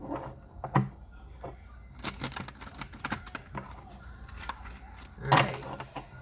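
Soft papery riffling of tarot cards being shuffled, a run of quick rustles and taps with a couple of louder snaps, close by and without talk.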